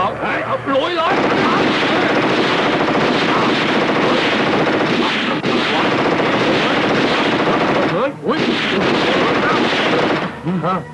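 Loud, dense machine-gun fire rattles almost nonstop in a Thai action film, Black Goblins (Payu Dued), with brief pauses between bursts and voices mixed in under the shooting.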